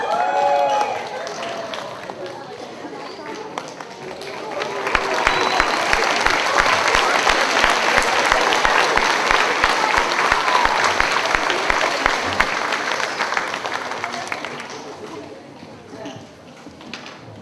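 An audience at a fifth grade school promotion breaks into sustained applause that swells, holds dense and loud for several seconds, then tapers off. A voice speaks at the start and over the clapping.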